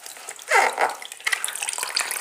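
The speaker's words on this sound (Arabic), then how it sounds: "شايفين الميه نازله تحت خالص" Water drains from homemade farm cheese (qareesh) gathered in a thin white cloth, making a soft trickle that swells into a brief splashy gush and then settles into a light, continuous patter.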